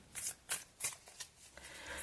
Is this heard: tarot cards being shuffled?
yes